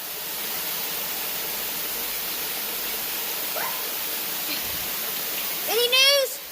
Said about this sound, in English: we got lots of water running